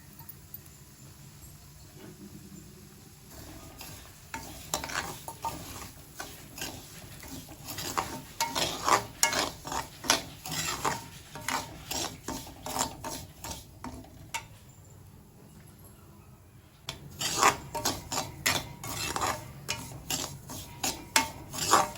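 Semolina roasting in refined oil in a pan, stirred with a spoon in steady scraping, rasping strokes that come and go, with a few brief pauses and quieter stretches, close and moderately loud.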